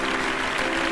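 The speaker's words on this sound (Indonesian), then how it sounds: "Tepuk tangan buat Ratna." A studio audience applauds a singer on a TV talent stage show, giving a brief burst of massed clapping with a faint tonal hum beneath it.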